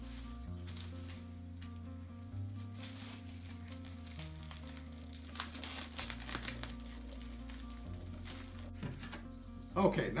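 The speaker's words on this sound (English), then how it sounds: "now we've wrapped that thing with plastic, tight, snug all around" Plastic film crinkles and crumples as it is wrapped tightly around a trident maple air layer, with soft rustling throughout and a brief louder crackle at the end, over low background music.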